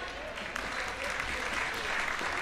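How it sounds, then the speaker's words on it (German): At a spring festival in Deggendorf, the crowd applauds the Blaskapelle Süß brass band, a steady wash of clapping at moderate level, with some voices mixed in. "Die kriegen nochmal einen Applaus fürs Nachspielen."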